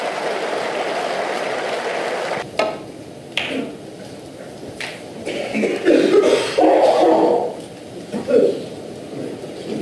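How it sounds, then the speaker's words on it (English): Scattered audience coughs ring out in a quiet, reverberant hall at the World Snooker Championship, a few sharp bursts among low murmuring and faint background noise. "So many coughs around this championship"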